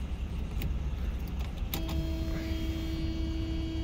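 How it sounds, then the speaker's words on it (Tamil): An old Mercedes car in Kuwait starts up: a few short clicks and mechanical noises first, then at about the midpoint the engine catches and settles into a steady, close idle hum over a continuous low rumble. "வண்டி ஸ்டார்ட் பண்ணுவோம்"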